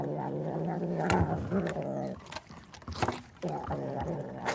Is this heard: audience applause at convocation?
no